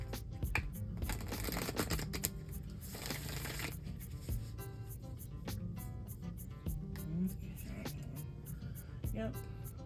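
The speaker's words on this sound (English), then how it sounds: "Y'all hear me shuffling, okay?" Tarot cards being shuffled repeatedly during a collective card reading, a steady run of crisp riffling and slapping card sounds lasting throughout, with a voice speaking over parts of it.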